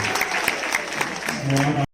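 Audience applause at a product launch event, a dense steady clapping from a crowd mixed with a speaking voice and some background sound, ending abruptly.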